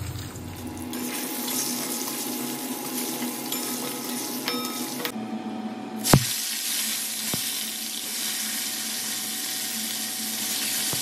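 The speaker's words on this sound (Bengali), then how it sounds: "তো প্রথমেই আলুগুলোকে ভালো করে ভেজে নিচ্ছি" Potatoes fry in a pan with a dense, continuous hiss and sizzle close by; the texture shifts midway, and a sharp clack sounds partway through, with no talk.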